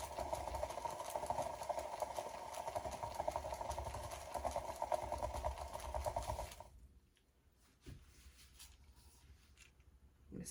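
A paint spinner turntable motor whirs with a steady mechanical hum for several seconds during fluid art acrylic pouring, then cuts out abruptly, leaving near silence with a few faint knocks.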